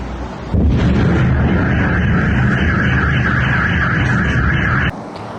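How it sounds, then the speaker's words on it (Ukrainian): A loud blast hits early and gives way to a sustained heavy rumble with a steady alarm-like tone, all cutting off abruptly near the end. Morning explosions in Dnipro, Ukraine. "у мережі публікують звуки вибухів, від яких цього ранку прокинулися дніпряни"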